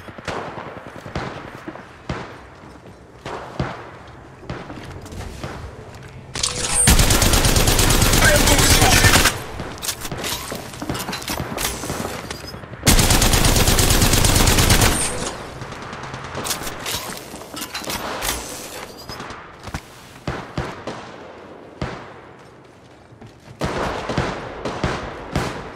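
Gunfire in Apex Legends Mobile: scattered single shots and sharp cracks, then two long, loud sustained bursts of automatic fire, followed by more intermittent shots, with brief speech between.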